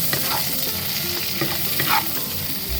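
Onion leek and shrimp stir-frying in a pan, a loud, steady sizzle with scraping stirs throughout, close up and with no talk.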